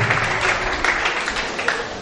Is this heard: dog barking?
no